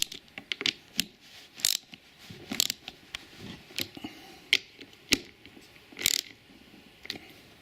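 Metallic clicks and clatter from hand tools tightening bolts on the clutch cover of a Kazuma Panda ATV during a refurb, with irregular sharp taps and short ratcheting bursts, close and fairly quiet.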